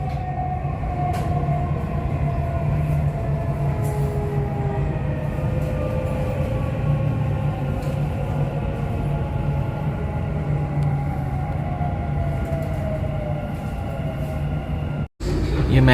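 Steady rumble of a Dubai Metro train riding along the rails, heard from inside the Gold Class cabin, with whining motor tones rising and falling throughout and a brief cut near the end.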